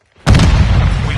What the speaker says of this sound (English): plant a charge on the target and level it